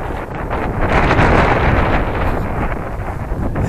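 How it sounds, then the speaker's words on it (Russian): Wind of about six to seven metres per second blows outdoors beside a vertical-axis wind turbine, a loud continuous rushing buffet across the microphone that swells and eases slightly. "Сейчас есть ветер примерно 6-7 метров в секунду."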